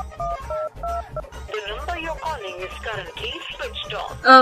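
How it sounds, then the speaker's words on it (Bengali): A phone being dialed gives a quick series of clear keypad tones with short beeps and pauses, followed by a brief louder burst at the end, close and fairly loud. "আমি ফোন করে দেখছি"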